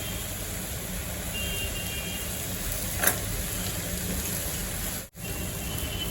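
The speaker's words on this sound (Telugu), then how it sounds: "అన్నీ మిక్స్ అయ్యేలాగా ఒకసారి టాస్ చేసుకుంటూ ఫ్రై చేసుకోవాలి" Egg noodles stir-fried in a pan with vinegar and soy sauce, giving a steady, even sizzle and hiss throughout, with one brief clatter near the middle and a short dropout near the end.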